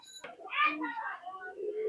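Pigeons at a sale of Teddy and Pakistani high-flying birds give soft, rounded coos close by, a short cluster of calls following a brief click.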